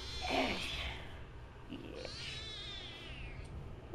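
A rescued cat, once sick and briefly voiceless, meows indoors with a few short, close mews and a longer wavering cry, fairly soft against quiet room tone.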